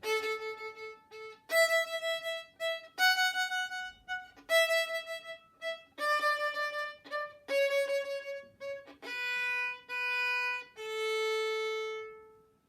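A variation of the Twinkle tune is played on an instrument as a series of clear, sustained pitched notes in a bouncy rhythm, heard alone with no talk.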